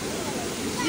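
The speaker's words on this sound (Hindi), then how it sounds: "वाटरफॉल जो है यहाँ पे झरना जो है वो यहाँ पे है।" A waterfall near a cave temple on the route from Katra to Baba Dhansar gives a loud, continuous rushing roar, with a person talking over it.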